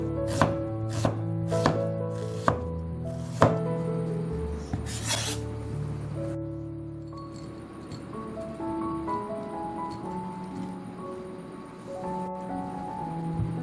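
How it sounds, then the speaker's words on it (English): A knife chops half a medium onion on a board in several sharp, evenly spaced strokes, then stops, leaving soft background music. "Half a medium-sized onion that I'm now chopping up."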